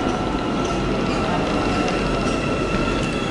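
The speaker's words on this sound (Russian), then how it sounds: "Вот так вот выглядит станция метро Таксим." A metro train rumbles steadily at Taksim metro station in Istanbul, a loud continuous rolling and mechanical drone with faint squealing, while people speak quietly in the background.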